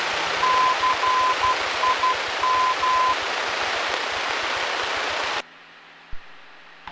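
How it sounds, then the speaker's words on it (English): A navigation beacon identifier in Morse code, heard over the radio of a Mooney M20F Executive aircraft: a steady tone keyed in short and long beeps for about three seconds over loud radio static and hiss, which cuts off abruptly near the end. "See if you heard there in that Morse code, it kind of played these digits here."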